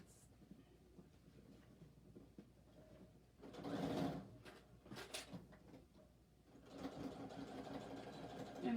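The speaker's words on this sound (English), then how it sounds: "I like to sew a little in and then back stitch off and then come on again" Sewing machine stitching a bag seam and boxed corner, with short bursts of back stitching; a steady low mechanical hum runs throughout, swelling louder around the reverse stitch and again near the end.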